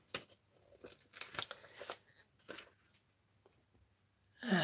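Scissors snip through a sheet of vellum paper while trimming a craft piece, giving a run of close, crisp cuts and rustles with brief pauses between them.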